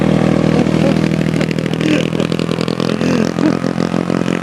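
A Yamaha NMAX motor scooter engine runs close by with a steady mid-pitched drone and a light clatter, holding an even note throughout with no talk.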